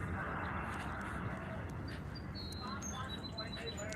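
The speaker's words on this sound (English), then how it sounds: "And you can hear the birds chirping." Small birds chirp outdoors at a San Diego harbor among yachts, faint high tweets scattered over a steady broad wash of wind and harbor noise.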